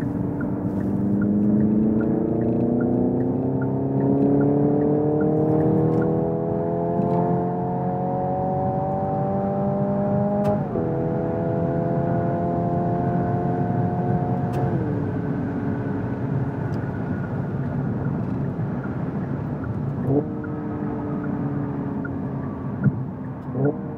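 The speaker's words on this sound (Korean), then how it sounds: "가속 정도, 감속 정도에 따라서 달라지는 이 배기음의 톤 변화" A steady engine-like hum from a Hyundai Ioniq 5 N electric car's simulated exhaust sound that rises in pitch, then drops abruptly several times with simulated gear shifts, continuous and fairly loud with no talking.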